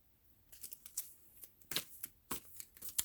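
Tarot cards being shuffled in a quick series of crisp riffling bursts and snaps, close and fairly quiet, with no voices.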